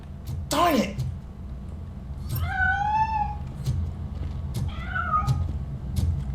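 A cat in RoboCop Rogue City yowls and meows as it escapes, with three separate cries, the second long and wavering, loud over a low rumbling game background with no talk.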